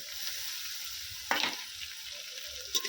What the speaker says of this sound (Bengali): আমি তেলের মধ্যে খুব ভালো করে ভেজে নিয়েছি এবারে দিয়ে দেবো রসুন বাটা আদা বাটা